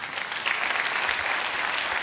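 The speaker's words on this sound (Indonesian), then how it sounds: "Tepuk tangan, saudara." A church congregation at a Surabaya worship service breaks into dense, loud applause, a steady wash of many hands clapping together throughout.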